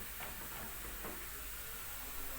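Chopped onions sauté in a pan for a village-style yogurt soup, giving a soft, steady hiss and sizzle that stays quiet and unbroken throughout, with no voices.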